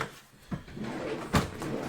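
A drawer being pulled open while searching for a cable. There are two short wooden scrapes and knocks about a second apart, close and fairly quiet, with light rummaging noise between them.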